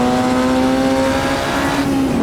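A race car in Automobilista 2 draws alongside with a loud, steady engine drone, its pitch holding high and then dropping slightly as it passes close by.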